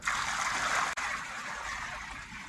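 Water poured from a bucket into the water table of a CNC plasma table, a loud steady splashing gush that briefly breaks off, then continues slightly softer, with no talk.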